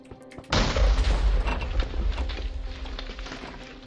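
A self-loading cannon in Minecraft's Create: Big Cannons mod fires with one heavy, booming blast followed by a long rumbling decay and scattered crackles fading over several seconds.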